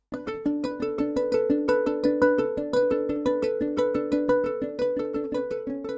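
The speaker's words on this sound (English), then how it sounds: "the combination of the original rubber bridge recording and the electric guitar" Two guitars play together, a soft muted plucked tone from a rubber bridge guitar layered with a clean electric guitar, picking a steady arpeggiated pattern of overlapping notes.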